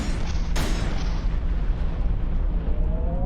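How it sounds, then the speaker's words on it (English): Shooting a shield generator in the space combat game Everspace 2: a sharp burst near the half-second mark gives way to a loud, sustained rumbling explosion that fills the clip, with a faint rising tone toward the end and no talk. "Give me a shield generator, I'm going to shoot it."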